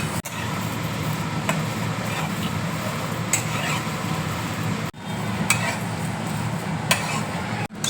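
A spoon stirs dry-roasted coriander, cumin, dried chillies and onion in a pan. It makes soft scraping and light sizzling at close range, with a few sharper clinks and two brief dropouts.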